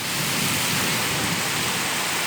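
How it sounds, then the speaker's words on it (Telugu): Heavy rain pours down in Allagadda during a thunderstorm. A loud, dense, unbroken roar of rainfall sits close by with a low rumbling undertone and no voices. "ఈరోజు అయితే ఆలగడ్డలో అయితే పూర్తిగా వర్షం పడుతుంది గైస్"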